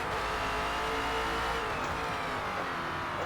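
A #17 Ford Falcon FG X race car in the video game Forza Motorsport at the Nordschleife, its engine droning loud and steady at high revs with slight pitch shifts and a faint tire squeal.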